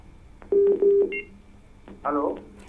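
On a live astrology call-in show, a caller's line connects with two short steady electronic tones back to back, followed by a brief warbling tone and a faint voice.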